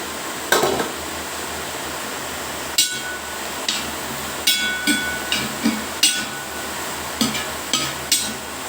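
Crushed green chili, ginger and garlic go into a frying pan for chicken curry, giving scattered clinks and light clatter against a steady low hiss, with no talk.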